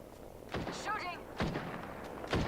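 Faint gunshots sound in Apex Legends: three or four sharp cracks spaced about a second apart, with a voice talking softly between them.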